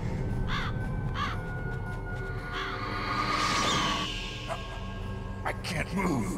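Ravens caw several times in short bursts, a few harsh calls spaced out over a dense, rumbling dramatic backdrop with speech-like sound mixed in.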